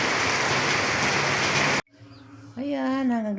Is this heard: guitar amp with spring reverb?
no